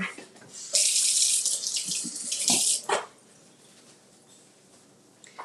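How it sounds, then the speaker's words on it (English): Hands are washed under a running kitchen tap, a loud close hiss of flowing water with splashing for about two seconds before the faucet is shut off, leaving quiet room tone. "Let me do a quick taste, wash my hands."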